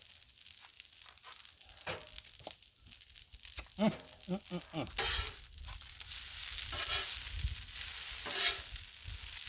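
Shrimp for scampi searing on a Blackstone griddle, a low sizzle close by with intermittent scraping and crinkling bursts from a spatula, rising louder toward the end.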